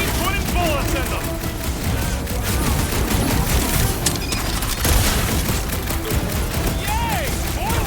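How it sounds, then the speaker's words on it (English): Rapid gunfire from a zombie shooter video game, dense bursts of shots with heavy booms running nearly continuously at close range, with a voice talking underneath. "I'll keep putting bullets in them"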